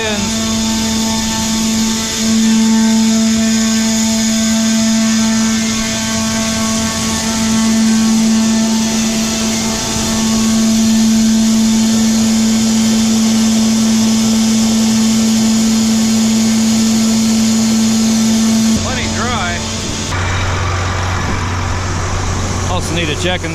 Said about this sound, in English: got a air pump basically that pumps air through these tubes, which transfers corn into all these bins